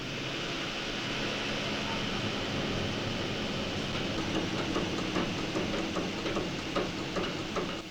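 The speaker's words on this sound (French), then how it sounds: "Un moteur marin, semi-rapide et monocylindre," A single-cylinder semi-fast marine engine designed by Pielstick runs steadily on a full-scale test bench, a continuous dense mechanical drone with fine rhythmic knocking that stays loud and even throughout.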